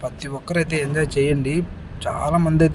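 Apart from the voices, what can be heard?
No everyday noise stands out behind the speech.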